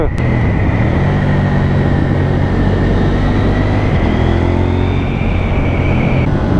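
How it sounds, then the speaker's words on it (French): A KTM 790 motorcycle rides along carrying a passenger, loud steady engine and wind roar with shifting engine tones, heard close and continuous. "Très agréable à rouler cette petite 790 en duo."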